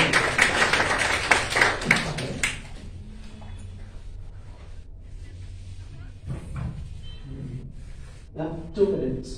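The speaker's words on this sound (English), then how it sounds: "Please give a big clap for him." An audience at a spoken English academy presentation claps for a student. A burst of close, dense applause fades out after a couple of seconds, leaving a quieter room with scattered small noises.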